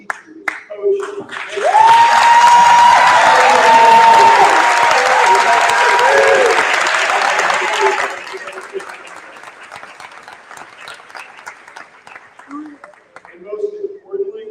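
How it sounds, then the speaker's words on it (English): A commencement audience claps and cheers for teachers and coaches, a dense roaring burst that builds quickly, holds for several seconds and then tapers into scattered clapping. A voice is briefly heard at the start and end. "Another round of applause for your teachers,"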